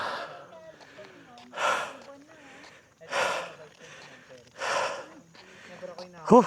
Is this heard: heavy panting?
yes